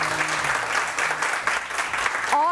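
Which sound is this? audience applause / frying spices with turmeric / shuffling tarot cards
audience applause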